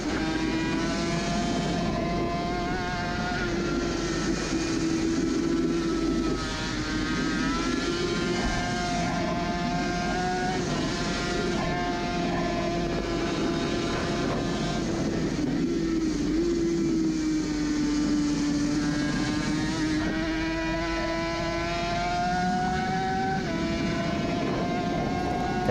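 An onboard Suzuki RG500 racing motorcycle screams at high revs around the Isle of Man course in a 2018 classic race. The loud, sustained engine note rises and dips with several gear changes, alone without talk.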